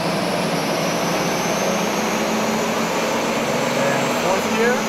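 A Mitsubishi Evo X or Subaru STi with open exhaust pipes pulls hard through the gears with a loud, continuous engine roar, and a voice speaks over it.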